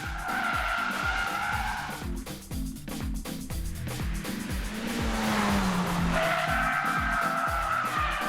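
A Mitsubishi Lancer Evo 10 drifting, its tires squealing in long, loud sustained screeches over a steady, roaring engine that swells and dips throughout.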